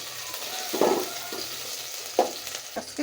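Chopped onion goes into hot oil in a pot for a fish curry, a soft steady sizzle broken by a few brief bursts of louder crackling and stirring; no one speaks.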